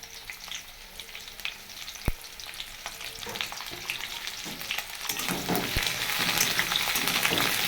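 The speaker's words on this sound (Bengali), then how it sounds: "এখানে পেঁয়াজ গাছ আর রসুন গাছ আছে একটু ভেজে নেব" Onion and garlic stalks frying in a pan over a gas flame, giving a continuous close sizzle that grows louder and denser toward the end, with a few scattered clicks and stirring sounds and no voices.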